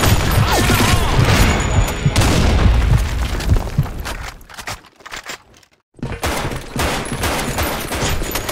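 A grenade in BlackShot explodes among heavy gunfire, loud booming fusillade for several seconds, then a brief drop to near silence before the firing resumes.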